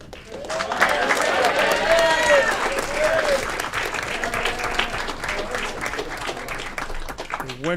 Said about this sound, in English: Another round of applause for Parrish.